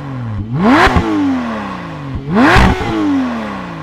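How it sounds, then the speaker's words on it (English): A Porsche Cayman GT4 with a new aftermarket exhaust revs twice, each blip rising sharply to a loud raspy peak before the pitch sweeps back down to idle, heard up close. "But thankfully now it sounds like this."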